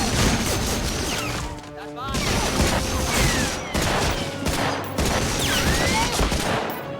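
Gunfire in Medal of Honor: Frontline on PS2, with a pistol and machine gun, comes as loud bursts of repeated shots over game sound, broken by brief pauses.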